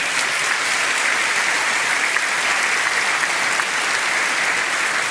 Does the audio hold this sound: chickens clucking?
no